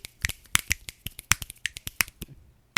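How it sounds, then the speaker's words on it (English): Several people snap their fingers as applause, a scattered, uneven run of sharp, crisp snaps, close and loud with short gaps, and no talking. "just give yourself some snaps"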